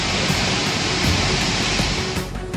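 Floodwater from the Yamuna river rushing out through the opened gates of the Hathnikund barrage during heavy monsoon rain, a loud, steady, close roar of churning water that holds without a break.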